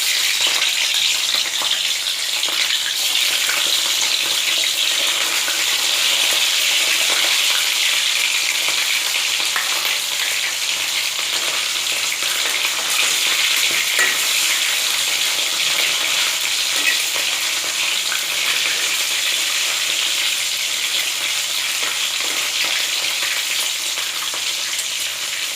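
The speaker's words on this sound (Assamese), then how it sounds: "এতিয়া তেল এয়া গৰম হৈ গৈছে, মই মাছখিনি ইয়াতে দি দিম" Pieces of rohu fish fry in hot oil in a wok, a loud, continuous close-up sizzle that holds steady for nearly half a minute with no voices.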